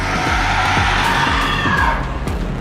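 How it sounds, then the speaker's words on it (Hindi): Demons (asuras) scream in the thick of a mythic battle, a dense, continuous crowd of yelling and shrieking voices that stays loud and unbroken from start to end. "असुरों की चीखें गूंजने लगीं।"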